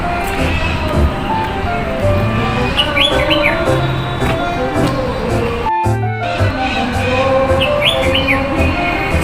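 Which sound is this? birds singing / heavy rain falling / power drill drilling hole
birds singing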